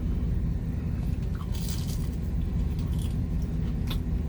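A crunchy fried cheese popper is bitten and chewed up close, crisp crackling crunches and wet chewing over a low rumble, with no talking.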